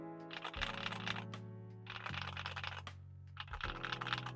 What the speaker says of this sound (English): This keyboard has a steel plate. No ring, no ping, no nothing.